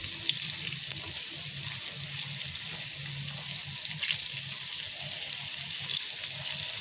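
Methi pakora batter made with chickpea lentils fries in hot oil, giving a steady, close hiss and sizzle throughout, with no voices.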